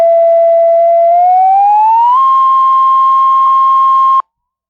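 An electronic guide tone meaning turn right: a loud steady beep that glides smoothly upward in pitch, then holds the higher note for about two seconds before stopping abruptly.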